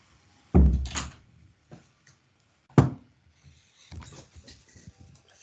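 A door is opened indoors to let a cat out: two sharp wooden clunks a couple of seconds apart, followed by faint shuffling and rustling.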